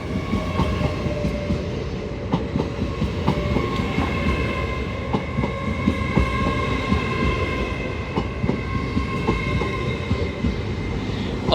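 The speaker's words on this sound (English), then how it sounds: "Off goes 801-203, bound for Edinburgh Waverley from London King's Cross." A Class 801 train departs York for Edinburgh Waverley on the East Coast Main Line, rolling past close by with a steady heavy rumble, rhythmic wheel clicks and a faint high whine, with no voices.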